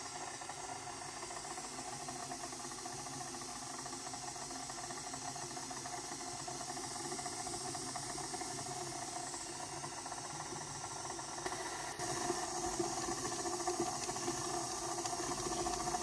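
A food processor with a flat beater mixes shortcrust pastry dough, giving a steady mechanical whir and low rumble that runs unbroken throughout, with a slight shift in tone near the end.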